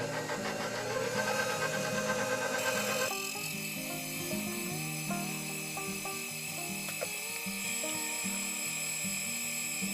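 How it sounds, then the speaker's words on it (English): A stand mixer kneads flour tortilla dough, its motor whirring steadily up close with a rhythmic knocking churn; after a few seconds the pitch drops and the drone continues evenly. "I'm just going to mix it on a stand mixer"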